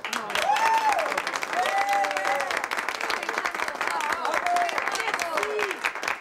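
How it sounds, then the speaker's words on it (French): Sustained applause from an audience fills the whole stretch, steady and fairly loud, with a voice calling out over the clapping now and then. "je vous demanderai d'applaudir bien fort notre merveilleuse hôtesse, Marie-Rose Séguin."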